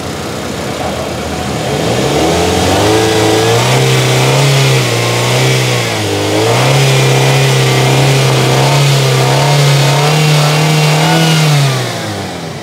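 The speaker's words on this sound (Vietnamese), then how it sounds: "máy cực kỳ là êm." A 2015 Spark motorcycle engine running smoothly: a loud, close, steady hum that dips and rises slightly in pitch before settling, with no voices.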